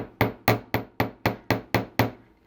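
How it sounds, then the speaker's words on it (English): A chasing hammer lightly taps a wire loop resting on a steel bench block, eight crisp, evenly spaced metallic strikes in a steady rhythm, close and clear with nothing else heard. "bring back your chasing block or your bench block and your chasing hammer, and we're just going to lightly hammer"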